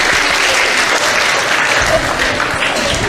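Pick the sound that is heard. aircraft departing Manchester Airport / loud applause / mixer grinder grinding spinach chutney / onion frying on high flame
loud applause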